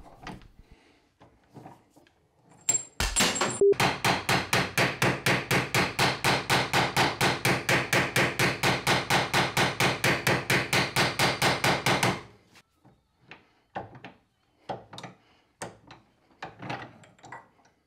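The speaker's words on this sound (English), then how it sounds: "I can hammer on it and I can manipulate the shape of it" Rapid, steady hammer blows on a steel pipe being shaped into a hand plane body, about forty close, loud metallic strikes in a fast even rhythm for nine seconds, followed by scattered lighter taps.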